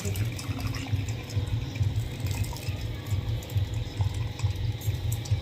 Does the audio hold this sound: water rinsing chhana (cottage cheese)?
yes